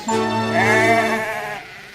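A single sheep bleats clearly and close by, a wavering cry lasting over a second before fading.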